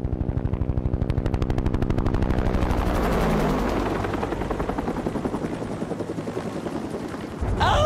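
A helicopter in GTA thumps with a loud, fast rotor chop that starts close and powerful, then turns into a rougher roar as it lifts away, with no talking.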